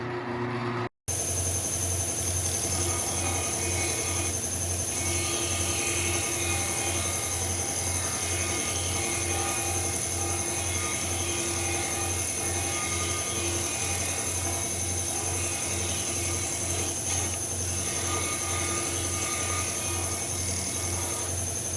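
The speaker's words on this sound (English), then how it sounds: "This curve I could use either this sander or the disc sander." An electric sander runs continuously on a curve of a wooden pull-string spinning top, producing a loud, steady machine hum with a constant tonal whine and a brief cut at the start, with no talk.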